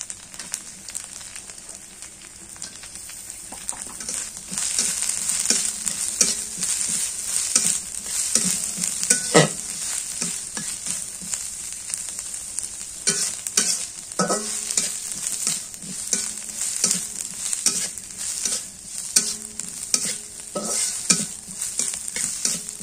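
Chopped onion sizzling and frying in a pan for a village-style Bengali bhaji, a steady bright crackle with occasional stirring scrapes and clinks throughout, close and continuous with no talking.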